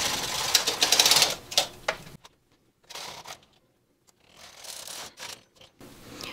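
A Brother 260 bulky knitting machine with a ribber has its carriage pushed across the bed, giving a close clattering, sliding swoosh in two separate passes with a quiet pause between them.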